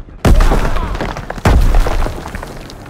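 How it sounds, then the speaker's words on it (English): Two heavy grenade blasts from the World War II shooter Call of Duty: WWII boom out about a second apart, each a loud, close thud that rolls off into a rumbling tail, with faint battlefield clatter between them. "Throw the grenade!"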